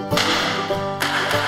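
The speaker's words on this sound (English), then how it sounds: "stock whips crack." Stock whips cracking while cattle are driven down a rugged mountain range, two sharp close snaps about a second apart over a steady drone.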